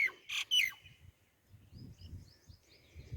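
Birds chirp around the grounds of Rohtas Fort, a few sharp close calls at first followed by fainter, scattered tweets over a quiet outdoor background.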